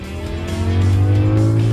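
A BMW M5 accelerates hard on a road during a high-speed run, its engine drone loud and steady, rising in pitch and building in volume over under two seconds, with faint tire noise beneath.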